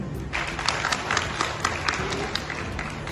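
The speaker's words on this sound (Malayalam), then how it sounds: "കൈയടിക്കുക" Audience of women at a community event in Thodupuzha applauding, a faint, steady patter of clapping hands with a few sharper claps standing out.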